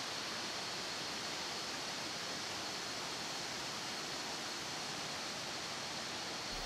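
Tat Kuang Si, a limestone waterfall near Luang Prabang, Laos, gives a constant, even roar of falling water heard alone, without pauses or voices.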